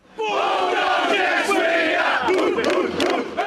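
A rugby league team's crowd of supporters sings a victory song loudly together, a dense mass of voices chanting and cheering close by for a few seconds.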